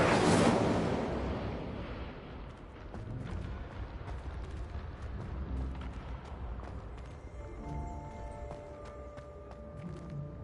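An Incendio fire spell cast in Hogwarts Legacy bursts out as a loud roaring blast right at the start, then fades into a low rumbling wash with scattered crackles and a faint tonal hum.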